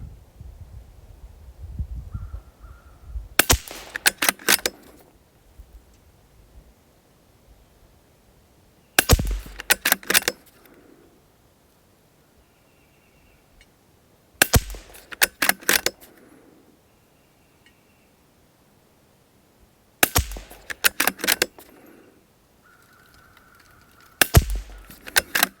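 A suppressed Ruger Precision Rifle with a factory trigger fires a group at a target, giving sharp isolated cracks spaced several seconds apart, each followed by brief mechanical clatter, with quiet pauses between shots.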